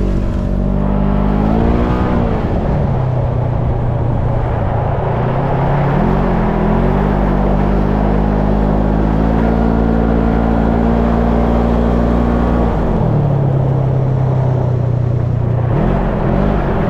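A side-by-side UTV engine drones steadily in four-wheel drive near a lake, loud and close, its pitch rising and falling with brief revs and shifts throughout.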